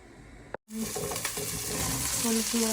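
Thickly cut, salted onions fry in a pan with a steady, fairly loud sizzle that begins after a brief clatter and a moment of near silence.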